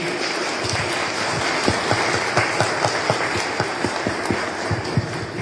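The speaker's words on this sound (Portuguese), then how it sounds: "Então a igreja aplauda ao Senhor em alegria." A church congregation applauds during a worship service, a dense, steady wash of clapping that stays loud and even throughout, with scattered sharper claps near the front.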